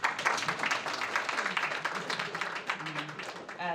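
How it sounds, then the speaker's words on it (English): An audience at a film event applauds, a moderate spread of clapping with sharp hand strikes, and a voice talks over it toward the end. "You can applaud."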